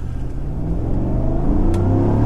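A GMC Yukon Denali with a 420 hp engine accelerates at full throttle, its engine note rising steadily in a loud, continuous roar heard from inside the cabin.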